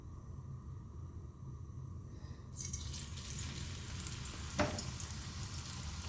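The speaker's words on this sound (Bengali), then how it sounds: "তো চলো অল্প অল্প করে কর্নগুলো আমি ভেজে নিচ্ছি এবার" Marinated sweet corn kernels drop into hot oil, setting off a loud, steady sizzle that swells after a quiet start and holds, with one brief sharp spatter partway through.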